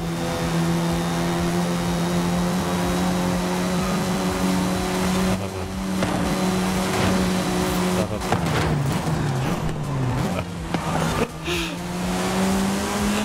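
A car engine held at full throttle in a multiplayer racing video game, a loud continuous high drone with steady tone that wavers and dips midway amid brief tire and contact noises, filling the whole stretch.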